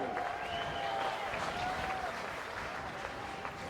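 A polo crowd applauds a player after a goal, a fairly distant, steady patter of outdoor clapping with a faint whistle and murmur through it.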